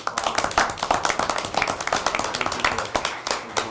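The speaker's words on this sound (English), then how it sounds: "Maybe a round of applause." A small group at a school board meeting claps in an uneven patter of distinct hand claps, moderately close and steady for several seconds.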